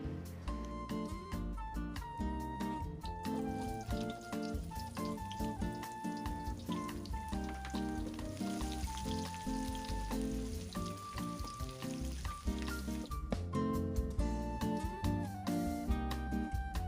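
Ingredients for spicy sweet-sour clams fry in hot oil with a continuous crackling sizzle, punctuated by rapid spatters and stirring noises, close and fairly quiet, without voices.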